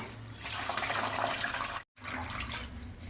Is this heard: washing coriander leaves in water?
yes